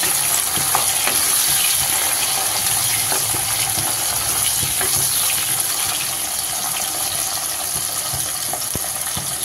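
Garlic and shallots sauté in a pan for a prawn and drumstick curry, making a loud, steady, close sizzle with faint stirring scrapes throughout.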